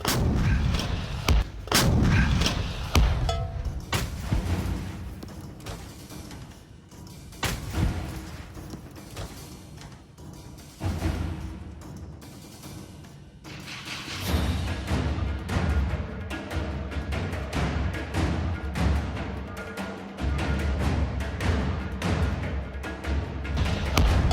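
A Soviet MT-12 "Rapier" 100mm anti-tank gun fires high-explosive fragmentation rounds, giving loud, booming blasts with rolling rumble and scattered debris clatter across the span, with no talk.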